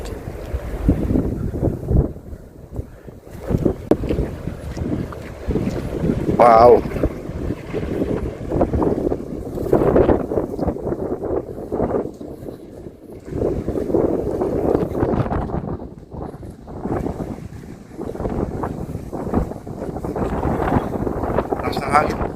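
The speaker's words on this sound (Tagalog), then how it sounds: "Lakas ng hangin." Strong coastal wind buffets the microphone at Kapurpurawan in Ilocos Norte, with the roar and crash of sea waves beneath, loud and continuous, and a brief exclamation from a person.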